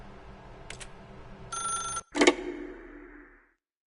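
Telephone ringing in a PS4 video game, a couple of bright electronic bell rings followed by a clunk as the receiver is picked up, close and clear before cutting to silence.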